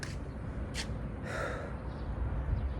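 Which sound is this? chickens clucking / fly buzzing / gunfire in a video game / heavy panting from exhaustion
heavy panting from exhaustion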